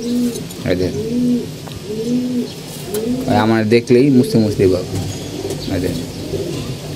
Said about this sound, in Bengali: এখানে সব মাদি কবুতরগুলো আছে।